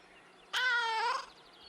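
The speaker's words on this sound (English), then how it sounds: "Cautious meow." One sustained, fairly loud meow from a cat in the video game Kentucky Route Zero, held for over half a second and heard alone against a faint steady hum.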